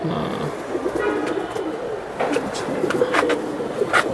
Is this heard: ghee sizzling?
no